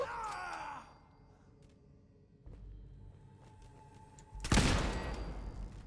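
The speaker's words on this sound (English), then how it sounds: "Who's shooting whom here?" A sudden burst of gunfire erupts near the end during play of the video game Fallout, following a quiet stretch of low ambient game noise.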